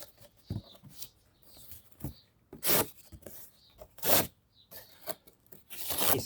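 A serrated Microtech Amphibian knife saws through cardboard in rasping, tearing strokes that come in uneven bursts, some loud and sustained, heard close up without speech.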